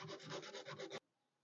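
Close hand sanding of a rusty Peugeot 306 car body scrapes back and forth in quick rhythmic strokes for about a second, then stops abruptly into near silence.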